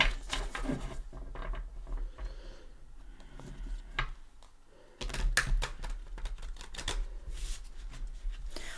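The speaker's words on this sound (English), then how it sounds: "let's give the Light Seers Tarot a shuffle" Tarot cards being shuffled close up, a run of soft riffling and flapping with short pauses, fairly quiet and with no one speaking.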